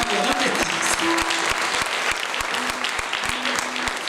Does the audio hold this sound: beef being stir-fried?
no